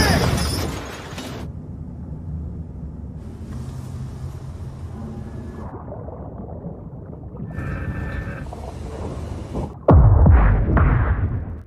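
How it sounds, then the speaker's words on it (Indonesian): Deep underwater depth-charge blasts rumble and throb around the Nautilus submarine hull, a creaking groan in the middle, then a loud heavy boom near the end. "ledakan demi ledakan yang dilepaskan benar-benar membuat lambung kapal Nautilus bergetar kencang"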